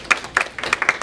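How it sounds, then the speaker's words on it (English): A handful of people clapping at a women's council meeting, sparse separate claps close by, uneven and brief. "Give yourselves a round of applause."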